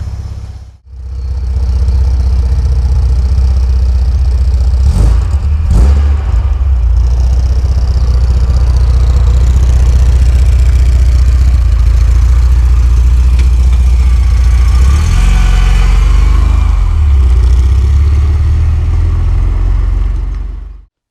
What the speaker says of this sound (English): let's get it on the road and see what it really sounds like